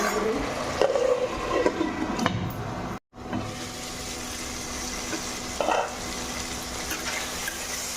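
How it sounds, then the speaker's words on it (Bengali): Chopped bottle gourd and potatoes fry together in a pan, giving a steady close sizzle with faint stirring scrapes and a brief dropout partway through. "লাউ আলু একসঙ্গে ভাজা ভাজা অনেকটা হয়ে গেছে"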